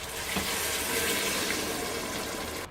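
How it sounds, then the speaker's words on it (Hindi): Two to three cups of water poured steadily into a pot of spiced beef with coriander powder, cardamom, cloves and cinnamon for Karachi-style nalli biryani, a continuous close splashing rush that stops abruptly near the end. "2 से 3 कप पानी डाल दूंगी।"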